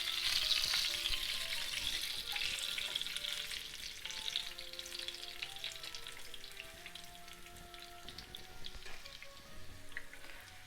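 Carp frying in a pan over low heat, giving a steady, dense sizzle with crackling pops that slowly eases over several seconds, with no voices.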